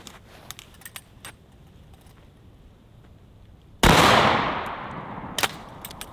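A single loud, close blast of 12 gauge double-aught buckshot from a Winchester 1897 trench gun, striking body armor on a torso target, booms suddenly and rings out in a long decaying tail, with a few faint clicks before and after.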